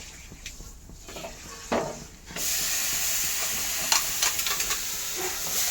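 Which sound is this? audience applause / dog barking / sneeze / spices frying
spices frying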